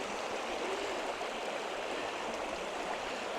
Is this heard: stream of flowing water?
yes